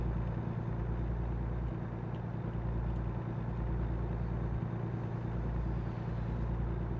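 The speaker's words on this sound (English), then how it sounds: "Can you guys hear me over the sound of my truck's engine?" A truck engine in American Truck Simulator drones steadily for the whole stretch, a low, continuous rumble with slight pulsing swells and no voices on top.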